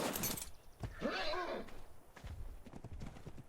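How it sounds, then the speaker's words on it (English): Horse in ARK, close by, giving a loud whinnying neigh between hoof clip-clops and other game sounds. "Oh, it's a horse."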